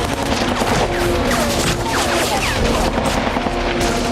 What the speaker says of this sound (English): You're seeing PKM fire.